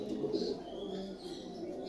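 Pairs of fancy pigeons, including Punjabi and Andra Kalanka birds, give soft low coos and murmurs close by, layered with faint chirps and a steady background hum.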